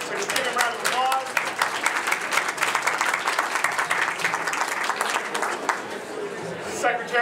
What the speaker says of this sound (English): Lieutenant Governor Rutherford, so give him a round of applause.